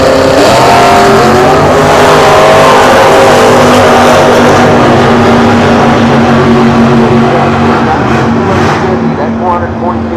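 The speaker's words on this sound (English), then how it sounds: "That 440 cubic inch Dodge making its way down the range" A 440 cubic inch Dodge Dart drag racing down the strip, its loud V8 roaring and rising in pitch as it pulls away, with a crowd and commentary blending in the background.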